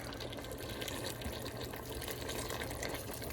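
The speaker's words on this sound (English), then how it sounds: "And I have my boiling water," Boiling water is poured steadily into a cooking pot while a budget stew simmers on medium heat, giving a continuous close, rushing liquid gush with no talking.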